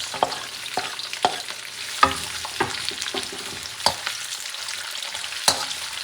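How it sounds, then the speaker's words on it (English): Onions stir-fried in a hot pan, a close sizzle broken by repeated sharp scrapes and clacks of a utensil against the pan, about ten strokes in six seconds, with no talking. "Going to stir fry this a little bit."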